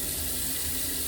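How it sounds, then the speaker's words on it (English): Water runs steadily from a tap into a sink while preparing a shave, a constant close hiss and splash with no pauses. "let's run a little bit of water in"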